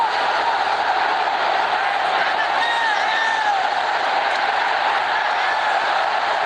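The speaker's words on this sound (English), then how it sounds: "And now listen to the National Stadium. It's got the crowd going, that goal." A football crowd roars at the National Stadium during a Singapore versus Indonesia match heading toward extra time, a dense, loud and steady wall of cheering and applause that holds for the whole stretch.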